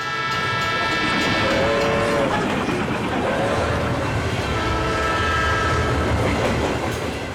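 The Mumbai Jaipur Express departing: a steady, loud rail rumble with rhythmic clatter of wagons and drawn-out horn-like tones, continuous throughout.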